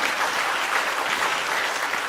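Sustained applause from a congregation at a 70th anniversary thanksgiving worship service, a steady dense wash of many hands clapping at moderate level, with no voices over it.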